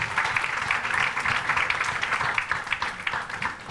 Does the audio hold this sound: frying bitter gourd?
no